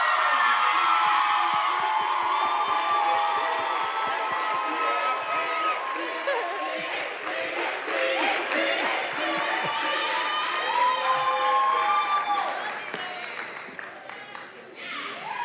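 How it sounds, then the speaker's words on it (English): A church congregation of young adults stands to applaud and cheer in welcome for Pastor Darius Dunson, a loud sustained crowd of clapping, whoops and shouts that gradually tapers off near the end. "can we stand and applause and give a great welcome to Pastor Darius Dunson"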